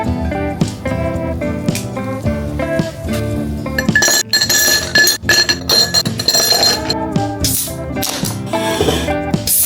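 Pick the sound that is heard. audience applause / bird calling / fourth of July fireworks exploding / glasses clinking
glasses clinking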